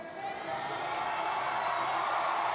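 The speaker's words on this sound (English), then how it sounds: "We can hear the crowd at the Mokdong ice rink cheering for the gold medalist in this distance yesterday" Crowd at the Mokdong ice rink in Seoul cheering during a short track speed skating World Cup, a dense sustained roar with scattered whoops, steady and fairly loud.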